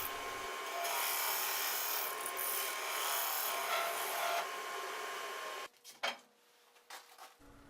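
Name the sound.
wood lathe turning a segmented wooden egg with a carbide pointed tool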